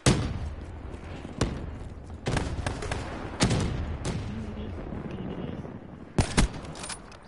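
Sniper rifle gunfire in a Call of Duty match, several loud sharp shots spaced a second or so apart, each with a booming tail, over a steady bed of game noise.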